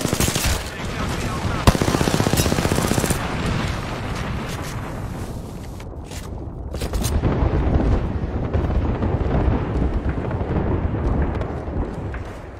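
Sustained machine-gun fire in a video game shooter rattles continuously, dense bursts with a loud crack near the start, then continues steadily under booming explosive rumble and game action.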